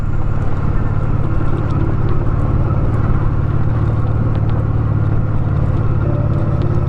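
A motorcycle rides over a bumpy cobblestone road on a weekend trip around Kremenets, Ukraine, its engine droning steadily under a constant rough road rumble, loud and close throughout with no talking.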